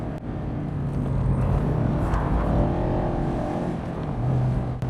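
A Mazda MX-5 ND pulls hard in second gear, its engine note climbing steadily in a sustained drone from inside the car, with road rumble underneath.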